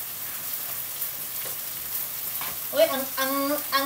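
Mung beans sizzle in a hot pan with ginger and garlic, a steady frying crackle that brightens with stirring clatter and clinks toward the end.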